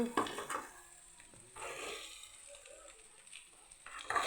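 Boiled eggs coated in a spice mix fry softly in a pan over low heat, a quiet steady sizzle with occasional louder scrapes and stirs as they are turned, no talking.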